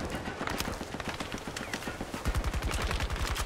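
Rapid automatic gunfire rattles in the shooter game Battlefield 2042, with a dense stream of shots that grows heavier and louder toward the end.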